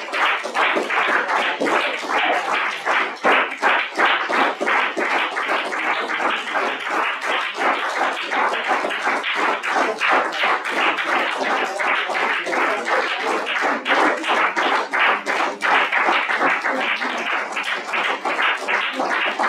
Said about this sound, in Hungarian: kérem, nagy tapsot a Zsülinek